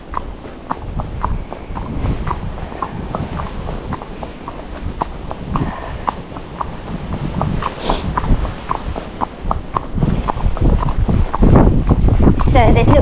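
Hooves of an ex-racehorse clip-clopping along a lane in a steady walking rhythm, close and distinct, with wind buffeting the microphone.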